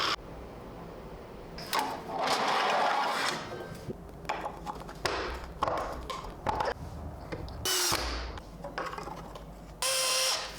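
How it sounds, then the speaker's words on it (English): 3D-printed planetary gearbox driven by a motor, turning a rope to lift a weight on a wooden plate mount, intermittent bursts of whirring and ratcheting gear noise with clicks and pauses, fairly quiet, no voices. "When the gearbox moves, it will turn the rope that is connected to some amount of weight."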